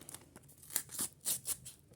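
Several short crisp snips and tearing bursts of paper being cut, close and fairly loud, with no talking.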